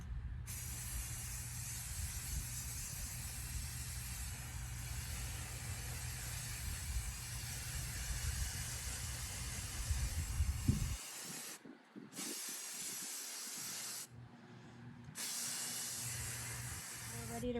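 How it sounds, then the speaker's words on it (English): A spray paint can hisses continuously over soap on an epoxy tumbler, a loud steady spray lasting about eleven seconds, then short intermittent bursts with gaps of quiet. "And now we're going to take our spray paint and just spray over the top of the soap."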